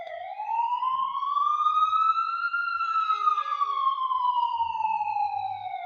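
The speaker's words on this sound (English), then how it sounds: "So yeah, sirens, here we go." A police siren passes outside on a street in Lima, one long steady wail that rises slowly and then falls away, loud and unbroken with faint traffic beneath.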